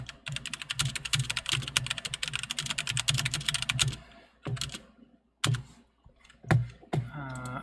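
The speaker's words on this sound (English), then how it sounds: "the keyboard that I use." Fast, steady clatter of typing on a computer keyboard up close, a dense run of key clicks that breaks into a few scattered presses near the end.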